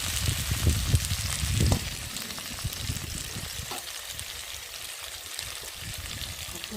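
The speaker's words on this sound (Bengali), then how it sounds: "রসুনটা দিলাম, মাছটা একটু তেল আছে, মাছটা একটু ভাজা ভাজা হয়ে যাবে" Fish sizzles in hot oil with garlic in a home kitchen, giving a steady frying crackle with some bubbling and stirring, louder at first and then settling to a softer, continuous hiss.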